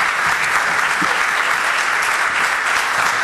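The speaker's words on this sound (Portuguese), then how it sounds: "Un aplauso a Marcos Suaya, guitarra" Audience applause after a live performance of the bossa nova song "Chega de saudade", a steady, dense wash of many hands clapping at full volume, filling the whole stretch without a break.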